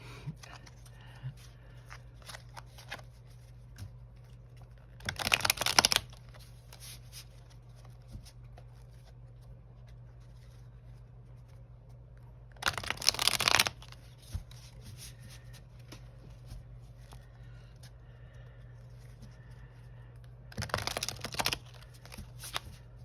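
Tarot cards being messily shuffled in three separate short bursts, crisp riffling and sliding, close by, with quiet pauses between.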